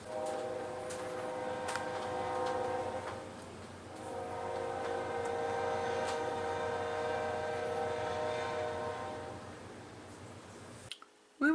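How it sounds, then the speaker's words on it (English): A train rumbles past an RV park at steady volume with a sustained, horn-like tone layered over the clatter, fading briefly before a sharp knock at the end. "We do have a train that goes by us here."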